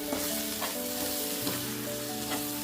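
Shredded cabbage and egg fry in a pan with a steady close sizzle, while a spatula stirs and scrapes through it several times. A faint steady tone hums underneath, and nobody speaks.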